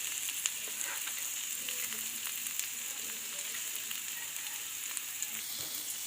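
Onions frying in a pan for village-style makhan saag with peanuts, giving a steady, fairly quiet sizzle with faint crackles throughout and no talking.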